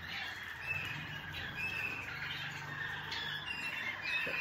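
A caged male bird chirps and squawks in short bursts over a steady wash of background noise, fairly faint and continuous with no speech.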